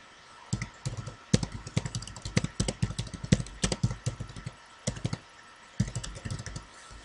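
Rapid keystrokes on a computer keyboard while entering crossword answers in Puzzlemaker, irregular clicking bursts with short pauses, close-up over a faint steady hum.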